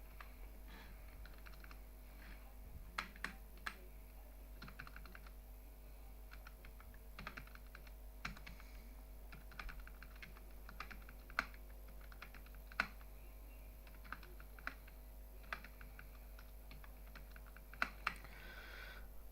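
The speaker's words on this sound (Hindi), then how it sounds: "ये काम हमें मैनुअल टाइपिंग करके करना है" Manual typing on a computer keyboard while entering dates and amounts into an Excel spreadsheet: steady, quiet key clicks with occasional sharper taps, heard alone with no talking over a faint background hum.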